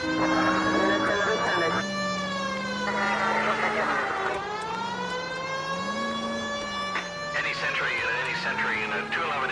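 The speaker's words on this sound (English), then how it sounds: "Can we hit the siren, Phelps?" Police car siren in the video game L.A. Noire wails loudly and continuously, rising and falling in steady cycles, with faint voices underneath.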